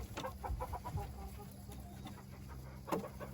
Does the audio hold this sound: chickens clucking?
yes